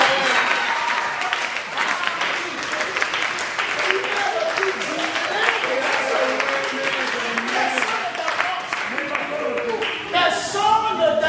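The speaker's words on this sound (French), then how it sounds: "Donne-moi une acclamation." A church congregation at a pastor's sermon applauds and cheers steadily and loudly, a dense wash of clapping with raised voices running the whole time.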